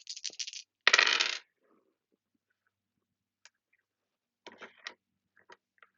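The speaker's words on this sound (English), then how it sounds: "so I'm going to roll these dice" Dice are rolled for a solo tabletop RPG: a short rattle is followed by a louder clattering tumble, then quiet, with a few faint taps and clicks near the end.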